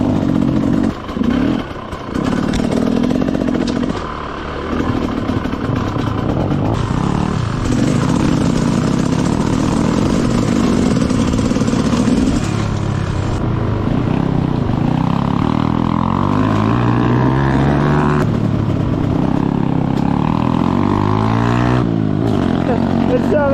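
An enduro motorcycle rides off-road, its engine droning continuously close by with rising and falling revs and gear changes, while a person talks over the engine noise.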